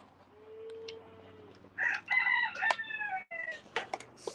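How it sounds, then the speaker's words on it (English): Poultry call and crow at a farm as turkeys are given feed, loud bursts of clucking and gobbling in the second half after a quiet start with one long low note. "I'll give the rest of the feed to the turkeys."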